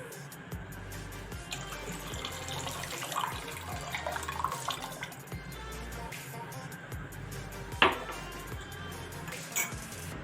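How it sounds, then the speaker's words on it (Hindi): Alum dissolved in water is poured into milk boiling in a pan to split it for Multani sohan halwa, a continuous bubbling, splashing wash of liquid with a few sharp clinks of utensils. "अब जो हमने टार्टरी पानी में घोल ली थी वो इसमें शामिल करते हैं"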